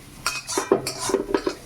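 A pot of dal comes off the stove with metal cookware clattering and clinking, several sharp knocks and scrapes up close, irregular and brief, without speech.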